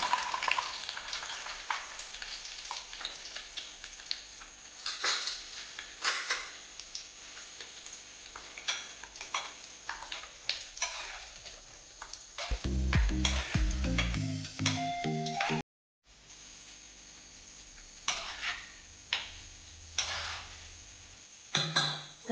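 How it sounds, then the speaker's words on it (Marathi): Cashew nuts fry in a pan for a dhaba-style cashew curry, a moderate sizzle with irregular ticking clicks and stirring knocks, a brief dropout near the middle, and no talking. "आता इथे काजू फ्राय करून घ्यायचे"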